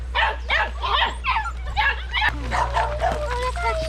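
On a farm, puppies bark and yip in quick, high bursts, with whimpering mixed in, close and constant over a low steady hum while people talk.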